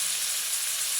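Coriander and spices fry in a hot pan, giving a steady, dense sizzling hiss that holds evenly throughout, with no voices.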